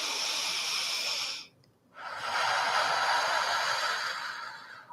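During yoga breathing, a deep, airy breath is heard close up, broken by a brief pause before a longer, steady breath.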